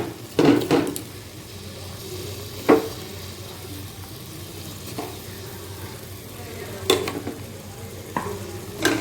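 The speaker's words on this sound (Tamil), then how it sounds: "இப்போ நல்லா அந்த மசாலாவோட கொஞ்சம் வதக்கிக்கலாம்" Vegetables and soya chunks being stirred in a pan with masala for veg biryani, with a soft continuous sizzle and occasional sharp scraping clinks of the spoon against the pan.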